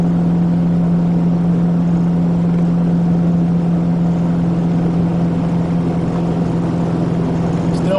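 Engine of an RV tow vehicle held at full throttle around 2,800 RPM while cruising near 54 mph, a steady loud droning hum with a strong low tone running unbroken throughout.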